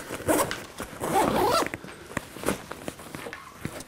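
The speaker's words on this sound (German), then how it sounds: "Umlaufender Reißverschluss direkt hinten" A zipper is pulled shut on the weapon compartment of a Tasmanian Tiger TAC Modular SW Pack 25 backpack, a couple of close raspy runs followed by lighter handling rustles and taps, no talking.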